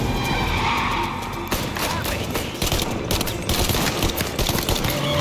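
Gunfire in the video game Mafia: Definitive Edition, dense rapid shots crackling in close bursts amid continuous action noise, loud and steady throughout with faint talk mixed in.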